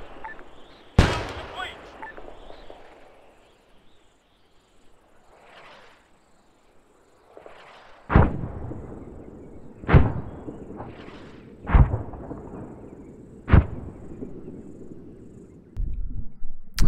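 Artillery shells landing in a military video game, a string of sharp, booming explosions spaced a second or two apart after a quieter stretch, the later blasts louder and close together, with no voices.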